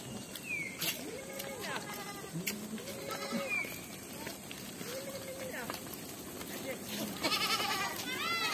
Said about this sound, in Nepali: आज चरणबाट बाख्रा फर्किँदै